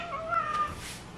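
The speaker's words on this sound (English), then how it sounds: "She doesn't like to be picked. She is a rescue cat." A rescue cat gives a single drawn-out meow, close and fairly soft, rising then trailing off in a quiet indoor room with no talking.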